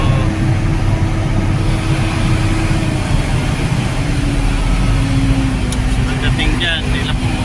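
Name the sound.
road traffic with cars and trucks in Meycauayan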